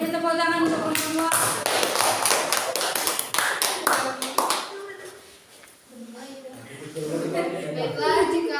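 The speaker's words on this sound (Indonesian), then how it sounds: "kita beri tepuk tangan untuk semua" High school students in a classroom clap for everyone after an Islamic education lesson: a burst of scattered hand claps for about four seconds, followed by voices talking.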